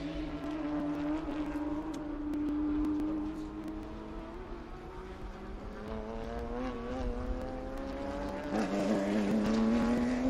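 Race cars at Sebring crossing the finish line, several engines droning together with rising and falling pitch as they pass, loud and sustained with a steady roar underneath.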